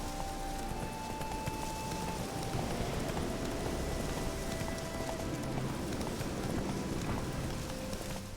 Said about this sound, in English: Now get over here, horse.